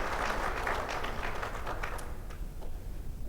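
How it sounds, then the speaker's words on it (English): Applause from an audience at a formal address, a dense spread of clapping hands that fades toward the end, heard from a distance at a low level. "I think you deserve to clap for yourself for the service you render to this country"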